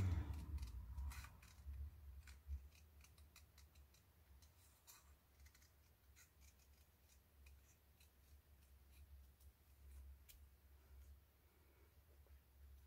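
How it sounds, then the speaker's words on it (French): Scissors snip through a label on a greeting card, a few quiet clicks and cuts heard close up over a low steady hum, with no voices. "On coupe la étiquette."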